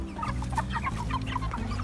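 Cornish Cross broiler chickens, meat birds nearing processing age, cluck in a steady flurry of short, overlapping calls, close by over a low background hum.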